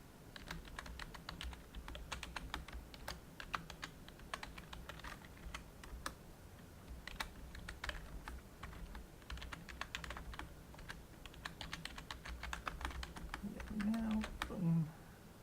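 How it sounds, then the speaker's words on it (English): Rapid typing on a computer keyboard, an irregular but continuous patter of close, crisp key clicks that runs for about fifteen seconds, with brief pauses and bursts, over a faint low background hum. "I'm going to go a little silent while I type because I cannot type and talk to save my soul"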